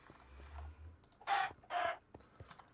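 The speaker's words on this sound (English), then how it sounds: "Oh, hey, water chickens." Two short clucking bursts from water chickens in the Minecraft Stoneblock modpack, close and fairly loud, separated by a brief pause over a quiet game background.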